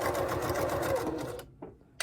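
A sewing machine stitching a fabric heart pouch with a cork label, a close, rapid mechanical whir that runs steadily and then stops abruptly, followed by a faint click.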